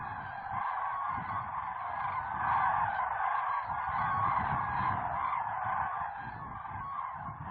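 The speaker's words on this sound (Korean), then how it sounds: "대동저수지는 여전히 겨울 철새들로 요란하다." A large flock of winter migratory geese honking continuously at a reservoir in snowy weather, a dense, noisy chorus of overlapping calls that swells and fades slightly, carrying from a moderate distance with no voices.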